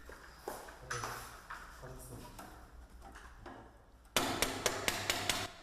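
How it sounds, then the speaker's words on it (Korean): Someone hammers in a student solar-car team's workshop late at night. A few scattered blows come first under background noise, then a loud, regular run of sharp metallic strikes. "망치질도 숙련된 솜씨로 뚝딱 해냅니다"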